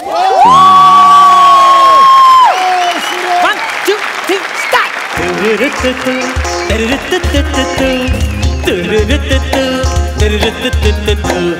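Comedy show stage audience breaking into loud applause and cheering, a dense roar of clapping and whoops close and sustained, then settling into rhythmic clapping along with music while a voice counts in.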